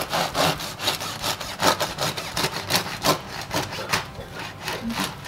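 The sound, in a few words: knife cutting crusty Norwegian bread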